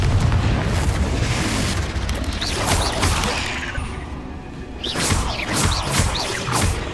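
Explosions from the Confringo spell in Hogwarts Legacy boom through a loud, dense battle, with a heavy rumbling blast at the start and a second burst of crackling impacts later.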